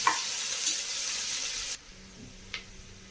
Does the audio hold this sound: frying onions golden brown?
yes